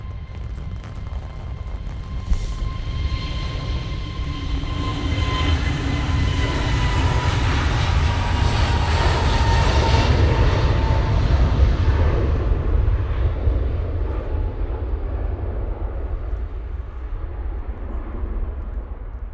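A Jet2 airliner roars down the runway on its takeoff roll at Manchester Airport, the broad jet noise building loud and then slowly fading into the distance.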